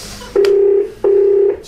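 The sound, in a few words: wall telephone dialing tones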